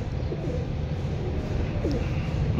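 Soft, low cooing of pigeons, a few short rolling coos close by over a steady murmur of background noise.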